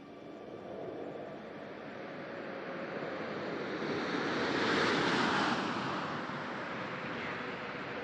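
Space Shuttle Atlantis touches down on the runway at the end of its final mission. A broad, continuous roar of rushing air and engine-like noise swells slightly midway and stays loud, with no voices.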